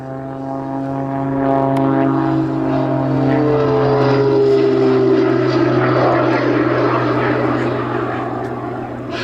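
A Pitts S-25 aerobatic biplane with twin AMT jet engines performs at the Duxford D-Day 80 summer air show, its propeller engine droning loudly as it passes close by, with the pitch steadily falling before fading.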